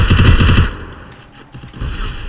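Gunfire in the mobile battle royale game Free Fire: loud, rapid bursts of automatic shots up close, one burst at the start, a short lull, then another volley.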